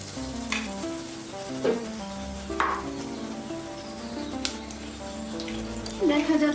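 Egg fritters (dimer bora) sizzle steadily in hot oil as spoonfuls of batter go in, a close, continuous frying crackle under a layer of tonal background music, with a few brief louder bursts.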